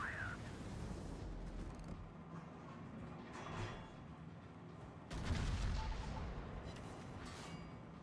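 Naval shell fire in the PC game World of Warships, heard as repeated deep booms and rumbling impacts under a continuous low engine and sea drone, moderately loud, with a heavy blast near the middle and no talking.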